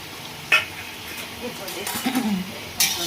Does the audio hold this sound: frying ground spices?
yes